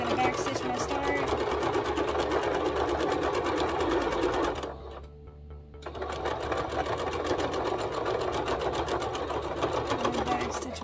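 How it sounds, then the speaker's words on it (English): A sewing machine runs a straight stitch along a snap placket on a child's ruffle sweater romper, buzzing steadily and loudly with one short pause partway through for the back stitch. "Using a straight stitch, definitely gonna back stitch when I start."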